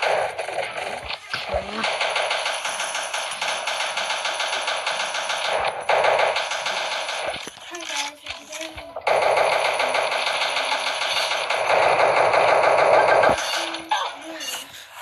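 Rapid automatic weapon fire in a 3D first-person shooting game, loud bursts of rattling shots running almost continuously with brief breaks, while people talk and shout excitedly over it.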